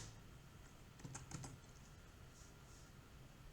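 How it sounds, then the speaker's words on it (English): Brief burst of typing on a computer keyboard, a quick cluster of soft key clicks around the middle against a quiet room hum, faint and close. "I will type here MetaMask"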